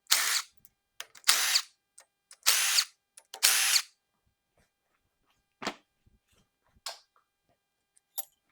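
A power tool removes rocker arms on a 7.3L diesel engine in a junkyard. Four short, loud bursts of whirring come in a rhythmic series, followed by a few quieter, sparse clicks and brief spins.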